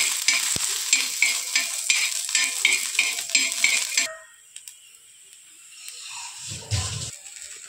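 Garlic roasting in a little oil on a hot griddle over a gas flame, a bright sizzle with rhythmic stirring scrapes that stops suddenly, leaving a quieter stretch with a low clatter near the end.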